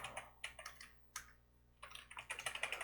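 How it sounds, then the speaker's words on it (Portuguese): Typing on a computer keyboard while writing code in the Neovim editor: quick, close clattering keystrokes in bursts, with a short pause midway before a denser run of taps. "Aí eu tenho que escrever na mão tudo que eu quero digitar"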